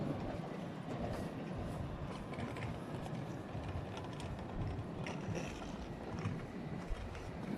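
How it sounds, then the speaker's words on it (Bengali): A train pulling into a station, a continuous rumbling and rattling of rail cars heard from some distance, steady and moderately faint with occasional metallic clanks. "ট্রেনটা এসে দাঁড়াইছে এখনই ছেড়ে দিবে"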